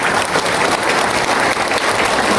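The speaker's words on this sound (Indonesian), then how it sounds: "Kita beri tepuk tangan buat rakyat Indonesia." Audience applause at an Indonesian political party assembly electing a new chairman, a dense, steady burst of many hands clapping close by, sustained evenly for the whole short stretch with no talk.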